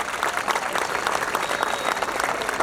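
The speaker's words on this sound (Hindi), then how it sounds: "तो पहली ताली इन सभी बच्चों के लिए" A large audience at a university festival gathering claps loudly and continuously for the children, a dense, even burst of applause with no speech.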